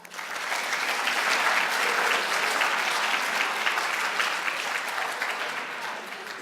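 Sustained applause from the audience at the 2019 Academic WorldQuest National Competition awards fills the hall as a dense, steady wash of many hands clapping, tapering slightly at the end with no talking.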